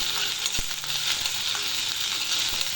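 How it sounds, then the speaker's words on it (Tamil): Mint, coriander and grated coconut are sautéing in a pan for chutney, giving a dense, continuous sizzle with occasional stirring scrapes, close and loud, with no talking. "இந்த தேங்காயும் அதில் போட்டுருவோம். போட்டுட்டு நல்லா வதக்கிடுவோம்."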